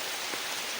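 Heavy monsoon rain pours down over a village, a faint, steady, even hiss with no pauses and no voices.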